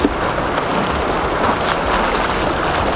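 Fast-flowing river water in the wild after possible rain, a loud, close, continuous rushing wash with no letup and no voices.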